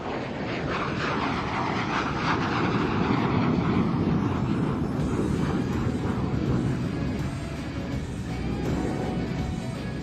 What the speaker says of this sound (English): look to the runway, ladies and gentlemen, departing right here, Greg Collier.